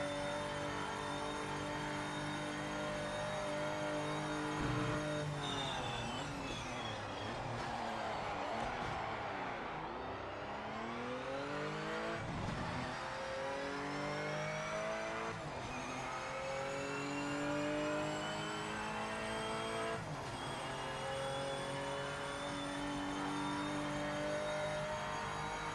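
A Porsche race car in the video game Project Motor Racing revs and shifts continuously. The engine note climbs and falls through the gears at a steady, moderate level, with no one talking over it.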